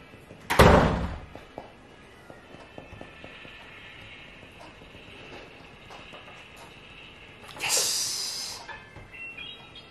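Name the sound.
door being closed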